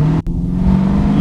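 A 1978 Camaro Z28 with a 509ci V8 and five-speed manual rumbles loud and close, its engine note briefly cutting out for a quick shift before pulling steadily again.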